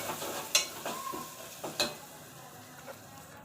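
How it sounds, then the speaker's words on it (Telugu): Onion, ginger and turmeric frying in oil for a tomato onion prawn curry, a soft steady sizzle with a few sharp clinks and stirring scrapes scattered through, close and fairly quiet. "ఉడికించిన తర్వాత అల్లగడ్డ పసుపు వేసి అవి రెడ్డిగా అయిన దాకా వేగనియాలి."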